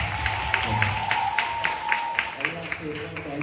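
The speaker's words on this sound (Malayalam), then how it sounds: "നല്ലൊരു ക്ലാപ്പ് കൊടുത്തേക്കാണ്." Scattered clapping from an audience at a church Vacation Bible School closing-day event, rhythmic claps of moderate loudness with voices talking underneath.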